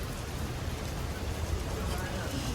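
Rain falls outdoors on a city street in Rome, a dense, steady hiss of drops with a low rumble underneath, close and fairly loud with no break.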